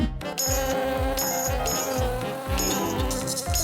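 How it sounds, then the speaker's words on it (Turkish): In an animated scene, a cartoon fly buzzes steadily throughout, layered over bright, bouncy music with a repeating beat, with no speech. "Hey, iğrenç sinek. Beni rahatsız etme."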